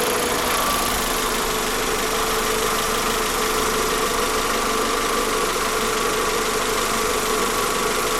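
A warm Honda CR-V engine (1997-2001) idles after a test drive, a steady mid-pitched hum with slight knocking vibration that runs continuously and close by, with no talk.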